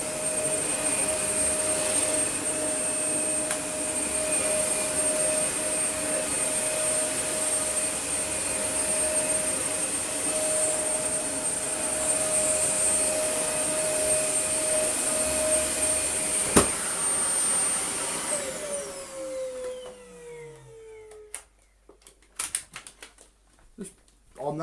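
A Dyson UP22 Light Ball upright vacuum cleaner running on a rug on its automatic setting, a loud steady whine with a constant high tone for about twenty seconds, then winding down and switching off, followed by a few handling clicks.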